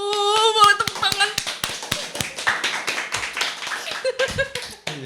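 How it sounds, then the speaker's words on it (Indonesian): An audience claps hands at an evening festival talk show, with sharp, uneven claps starting over a sung or spoken tone, then scattered taps and a few louder strikes near the end. "Boleh tepuk tangan."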